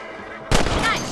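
A single loud rifle shot in Red Dead Redemption cracks out of a quiet background, hitting hard and then trailing off into a long rolling echo.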